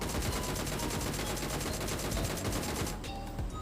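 Rapid automatic gunfire in a shooter video game, a dense loud stream of shots that runs continuously before cutting off near the end.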